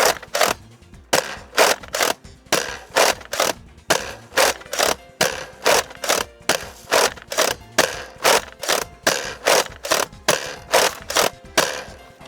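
XShot toy foam dart blaster firing short darts on an outdoor range: a long run of sharp, evenly spaced mechanical shots, about two per second, loud and close with no talk.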